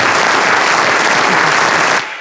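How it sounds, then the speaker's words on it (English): Brief burst of loud, dense clapping from a small group in a sports talk show studio, rapid and crackling, cutting off abruptly near the end. "Give him a round of applause, man."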